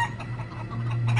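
Chickens cluck in short, soft bursts at close range, with a low steady hum running underneath.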